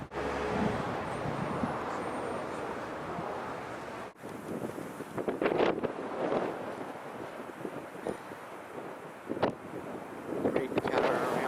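Cold, gusty wind at the seaside in Saltburn, England buffets the microphone in a steady roar with louder bursts, while waves wash faintly in the background.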